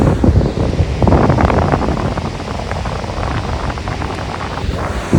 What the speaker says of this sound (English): The ocean never stops.